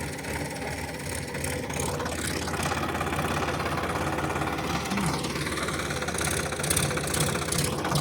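A new Sonalika tractor engine idles steadily nearby on a farm, a continuous rumbling throb with a slight knock, holding at a constant level throughout.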